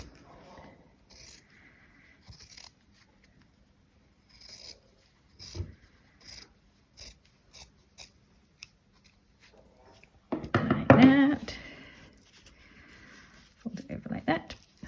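Scissors trim the edges of a hand-embroidered fabric hanging in short snips, followed by a louder burst of cutting; quiet talk comes and goes around the snips.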